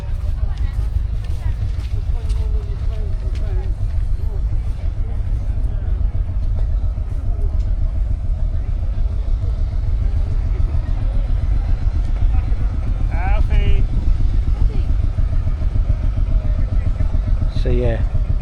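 Old Field Marshall single-cylinder tractor engines idle at an outdoor steam rally in Worcestershire, a steady low thumping drone running throughout, with crowd chatter and a few voices nearby.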